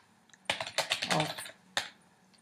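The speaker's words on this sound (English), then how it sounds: "So we can type in here" Quick burst of typing on a computer keyboard, a rapid cluster of close clicks followed by a pause and one or two final keystrokes.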